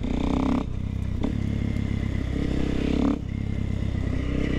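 A motorcycle with some faults runs close by at an airfield, its engine droning steadily and rising and falling with a few revs.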